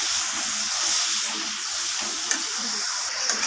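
Beetroot and carrot cook in a pan, giving a steady hiss and sizzle as a utensil stirs and scrapes through them, close and continuous with no voices.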